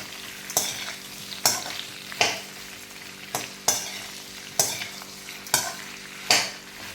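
Eggplant and potato sizzle in a hot pan, with brisk stirring strokes scraping through about every second in a steady rhythm.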